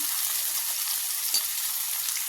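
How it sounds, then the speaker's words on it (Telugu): Potato pieces frying in a pan for aloo fry, a dense, even sizzle heard up close and uninterrupted, with no voices. "బంగాళం ముక్కలు మంచిగా ఫ్రై చేసుకున్నాం"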